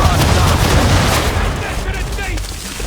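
Ship guns in Assassin's Creed III fire at an enemy ship in a dense barrage of booming cannon shots and crackling gunfire, loud and continuous with rumbling blasts that slowly fade, amid battle noise and voices.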